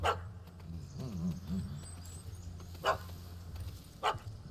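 A dog barks in The Witcher 3: Wild Hunt – Hearts of Stone, with three sharp barks spread over a low ambient bed and soft whining sounds in between.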